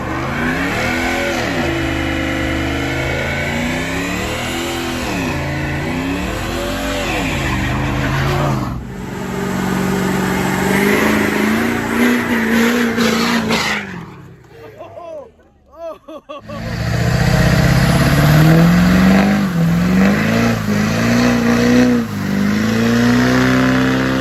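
A truck at a Broward County, Florida truck meet does a huge burnout, its engine revving hard in repeated surging waves, loud and close, dipping briefly before roaring back, with crowd voices mixed in.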